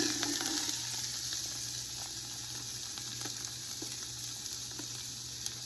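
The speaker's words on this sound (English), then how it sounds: "And now I'm going to put my onions in here. Turn it down a little bit. I'm going to brown my onions." Onions brown in a pan for an Italian Sunday sauce, a quiet, steady sizzle with faint crackles and an occasional tick, close by and uninterrupted by voices.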